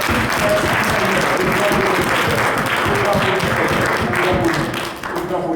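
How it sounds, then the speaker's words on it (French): A church congregation claps and cheers loudly in praise during a Sunday service, a sustained wall of applause with voices calling out over it. "On va acclamer le Seigneur."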